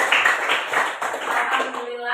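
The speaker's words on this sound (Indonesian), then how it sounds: "Tepuk tangan dulu." A school class claps hands together, a quick run of dense applause-like claps lasting about two seconds, close and lively, fading at the end.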